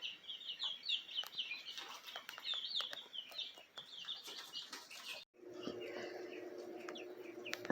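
Jersey Giant chickens cluck and chatter continuously with some wing flapping, then a steady mechanical hum takes over partway through.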